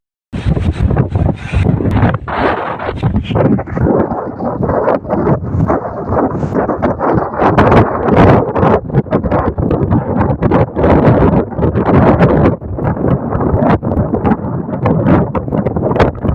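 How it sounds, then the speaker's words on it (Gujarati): Strong windstorm gusts buffet the microphone in a rural farming village, a loud, continuous roaring rush with rough bursts of wind noise throughout. "પવન એટલો અહીંયા ફૂંકાય છે ને એની તમે વાત જવા દો"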